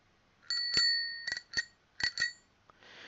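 A bicycle bell rings in several crisp, bright dings, a couple of quick double strikes spaced across the moment, close and clear against quiet, ending with a short rustle.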